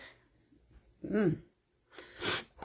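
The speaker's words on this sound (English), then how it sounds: "I'm sorry I was sneezing." A person sneezes twice indoors: a sharp nasal burst with a rising catch of breath, a brief pause, then a second, stronger explosive sneeze close to the microphone.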